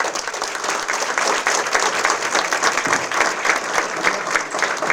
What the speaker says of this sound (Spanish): No le dimos un gran aplauso a nuestro expositor, bravo.